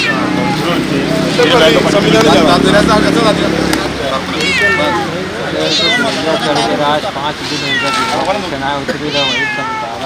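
Several close cat meows repeat through a rescue by a trauma care team in Tirur, Kerala, sounding over steady voices and crowd noise.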